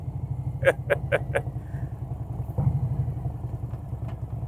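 A motorcycle engine runs through a short ride, a steady low rumble with a few sharp clicks and clatters on top.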